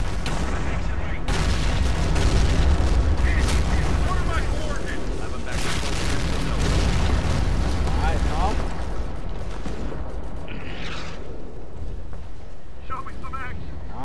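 In the Company of Heroes battle game, artillery thuds and explosions roll on almost without a break, heavy and booming, while a player talks over much of the fighting.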